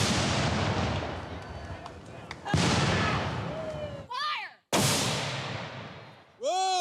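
Several loud booming Civil War cannon shots, each followed by a long decaying rumble, with brief shouts between blasts.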